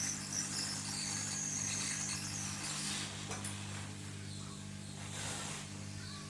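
A hot air blower hisses steadily while reseating the processor on a small Nokia phone, a faint broadband rush over a low electrical hum that barely changes throughout.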